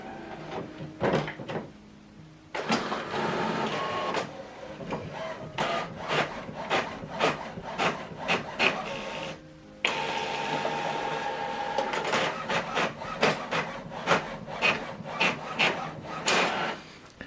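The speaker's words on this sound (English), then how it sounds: "Now this document is going to print out." An HP printer runs a double-sided print job, making rhythmic mechanical rubbing and clacking strokes as paper feeds, with a short pause near the middle before the repeated strokes resume, fairly loud and close.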